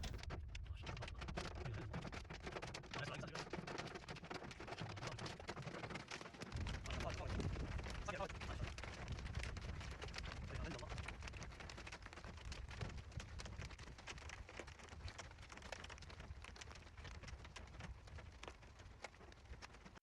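Heavy hail and rain pour down in Riyadh, Saudi Arabia, making a dense, steady, close roar of patter that lasts throughout, with a faint rumble underneath.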